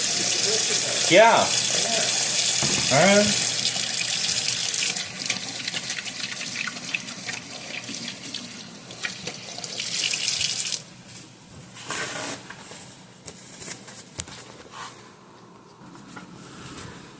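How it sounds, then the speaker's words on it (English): A kitchen tap runs for hand washing after handling raw ground beef. A strong steady hiss of running water fills the first ten seconds, then it is shut off and brief quiet handling sounds follow, with someone speaking briefly. "you always gotta wash your hands"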